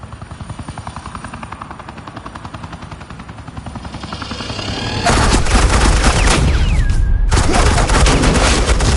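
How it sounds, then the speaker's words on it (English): Suppressing gunfire in Telltale's Batman Season 2, rapid rhythmic shots under a steady helicopter-like thrum, swelling into a loud dense burst of automatic fire for the last few seconds. "Suppressing fire."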